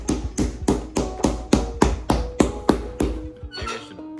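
A hammer taps leather on a pair of Red Wing boots being customized, about ten sharp, evenly spaced blows close up, followed by a short clatter at the end.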